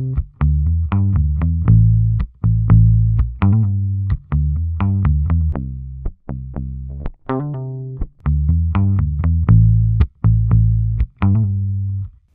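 A warm, slightly gritty electric bass, a vintage violin bass through a bass amp plugin, plays a bouncy line of short plucked notes, close and full, with nothing else alongside.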